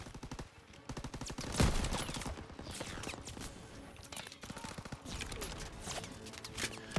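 Machine gun fire in the Call of Duty WWII video game, with rapid bursts of gunshots rattling almost continuously alongside a louder blast and battle noise, close and intense.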